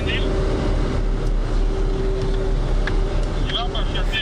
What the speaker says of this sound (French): À l'intérieur, des vrombissements des pompes et des engins lourds se font entendre, le tout mixé avec le bruit du système d'aération